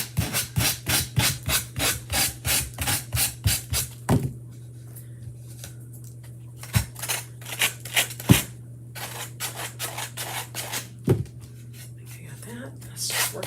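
A sanding block rubs back and forth in rapid, even strokes at close range, then slows to scattered scrapes with pauses, over a steady low hum and a faint voice in the background.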